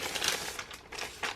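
Plastic bag crinkling close and fairly quiet as a gas strut for a Selden Rodkicker boom vang is unwrapped, in a few short rustling bursts.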